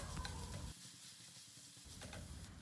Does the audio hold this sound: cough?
no